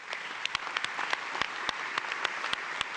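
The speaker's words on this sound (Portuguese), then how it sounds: "Um aplauso da assistência" Audience applause at a public citizens' meeting on Europe: a steady wash of clapping from a crowd with scattered sharper individual claps standing out, moderately loud and without talk.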